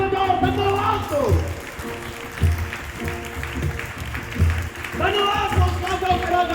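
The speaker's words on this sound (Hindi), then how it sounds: "मेरे भाई मेरा ताली बजाओ, धन्यवाद दो" Church congregation clapping in rhythm during inaugural Sunday worship, loud beats under a preacher's amplified voice speaking and chanting over the top.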